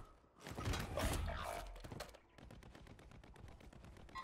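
Gunfire in Warzone 3, a dense burst of rapid shots and impacts that gives way to a steady, fast automatic rattle, all fairly close and loud.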